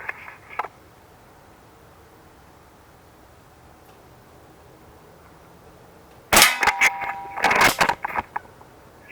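A Kimar K 760 .177 break-barrel spring-piston air rifle fires after a long quiet stretch: one sudden loud crack with a metallic ring, then a second burst of rattly mechanical clatter close by.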